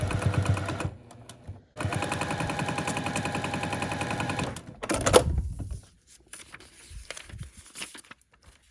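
A sewing machine stitches a Pickle Dish quilt block in two rapid, rattling bursts, one short and one longer, followed by quieter handling noises and a sharp click.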